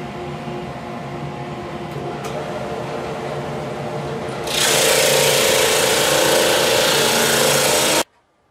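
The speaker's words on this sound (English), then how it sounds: "And that's done quickly on the sander." A power sander works bamboo floorboard strips down in thickness, a steady machine hum that jumps to a louder, harsher broadband grind midway as the wood meets the sander, then cuts off abruptly.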